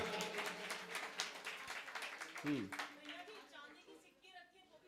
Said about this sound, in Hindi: बजाओ जोरदार तालियां